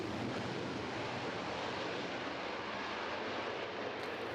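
A Boeing Super Hornet fighter jet flies an air show demonstration, its engine a broad, steady roar that fills the air without letup, sounding somewhat distant and wind-blown.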